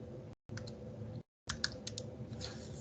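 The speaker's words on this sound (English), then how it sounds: "if I type history" A command typed on a computer keyboard: quick clusters of light close key clicks, separated by two brief silent gaps.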